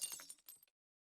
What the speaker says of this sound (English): accompanied by the sound of glass shattering